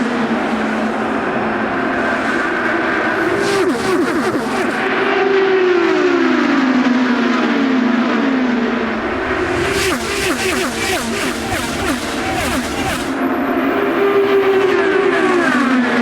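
IndyCar race cars scream past at the Indianapolis 500, their high engine notes rising and falling in long sweeps as they pass, with loud bursts of crowd or track noise and commentators talking over the action.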